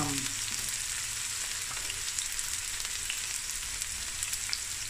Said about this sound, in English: stir this before I add the garlic